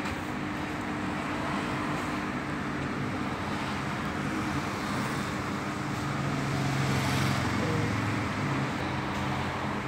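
A Speed Queen launderette washing machine spins with an unbalanced load, giving a continuous heavy rumble and whir that swells and wavers midway, with no talk over it.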